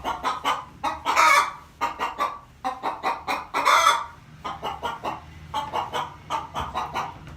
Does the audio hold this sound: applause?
no